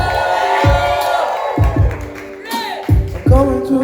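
A crowd at a live event cheers and claps loudly, with whoops and bursts of noise rising and falling and some voices mixed in.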